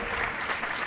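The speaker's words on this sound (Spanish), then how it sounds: "un fuerte aplauso" Applause from the crowd at an esports final for a Counter-Strike match, a steady wash of clapping lasting under a second, moderately loud and close, with no voices above it.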